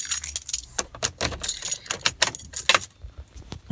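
Car keys for a BMW E46 330Ci jangle and clink close by in a rapid run of bright metallic rattles, loud and busy for most of the clip before quieting near the end.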